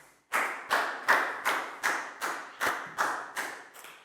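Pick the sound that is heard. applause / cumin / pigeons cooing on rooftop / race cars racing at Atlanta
applause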